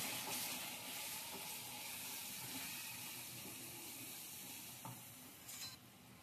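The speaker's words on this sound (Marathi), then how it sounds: "1 चमचा भरून धन्याची पावडर टाकली, मिरची पावडर, त्याला परतून घेऊ चांगलं" Coriander powder and chilli powder fry in hot oil over a lowered flame while being stirred in a pan: a soft, continuous sizzle with light scraping, fairly quiet and close, with no talking.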